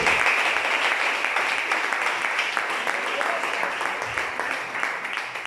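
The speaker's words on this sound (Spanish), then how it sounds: "Fuerte esos aplausos para Cristo Jesús" A church congregation claps steadily in praise of Christ Jesus, dense sustained applause filling the room at even loudness throughout, with faint voices mixed in.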